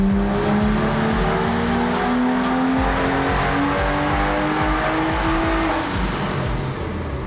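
A BMW F30 revs hard on a dyno, its engine roaring loud and close. The rising tone climbs steadily for several seconds, then drops off near the end.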